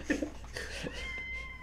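Cats meowing and yowling indoors, a short chirpy call followed by a longer drawn-out, wavering meow, close and fairly loud with a steady room hum beneath and no talk over it.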